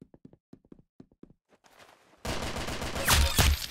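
Light footstep taps sound in a mobile video game 1v1 match, then a sudden loud burst of rapid gunfire erupts and keeps going, with sharp heavy shots near the end.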